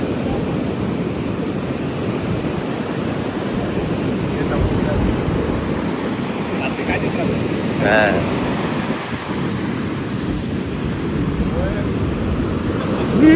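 Ocean waves on an isolated Goa beach make a continuous broad roar of surf with wind, loud and close, with faint voices in the background.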